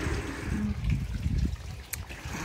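Water trickles steadily in a garden fountain water feature set in a southwest-style yard, a close, continuous splashing and dribbling with no pause, and a few faint bumps underneath.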